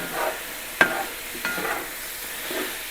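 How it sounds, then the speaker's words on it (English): A spoon stirs beef bourguignon ingredients in a pot. Soft scraping and a few sharp knocks against the side come over a low sizzle, close and moderately quiet. "Just going to mix it all together here."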